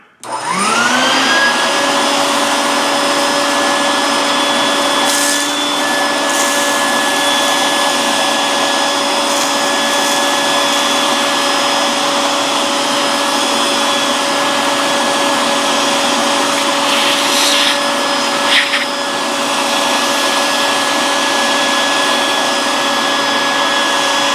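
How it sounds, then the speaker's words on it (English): A shop vacuum whines up to speed and runs loudly and steadily, its motor drone unbroken, with occasional brief rattles of debris being sucked in. "I'm going to use a shop vac, so you're going to hear a lot of noise here"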